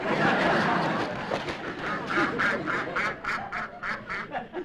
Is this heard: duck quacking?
yes